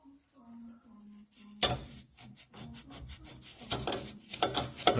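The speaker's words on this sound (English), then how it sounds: "I'll just wipe it off." A rag is wiped over greasy rear brake parts on a 1970–71 Honda N600, making soft, close rubbing and scuffing strokes in short uneven bursts that grow somewhat louder toward the end.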